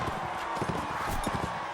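Rapid clip-clopping hooves of a galloping horse in the medieval battle game Mount & Blade, steady and moderately loud over a bed of battlefield ambience.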